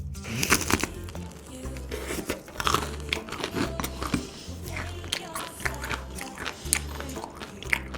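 Close, crisp biting and chewing of a crunchy croffle topped with ice cream, with repeated crunches in an irregular rhythm at close range.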